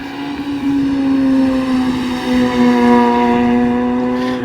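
A Honda Civic exhaust holds a loud, steady, nasal drone at high revs, sliding slightly lower in pitch across the stretch, with no voices.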